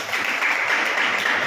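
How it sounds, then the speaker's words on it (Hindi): Church congregation clapping for Jesus during a Hindi sermon, a steady, dense wash of many hands applauding together, loud and close throughout the short stretch with no voices on top. "बजाओ ताली यीशु के।"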